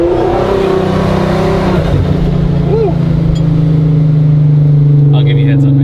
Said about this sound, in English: you can really get those exhaust notes. This thing definitely sounds good.